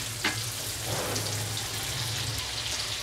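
Yellow capsicum fries in butter with a steady, dense sizzle and crackle, and a faint stirring knock is heard near the start.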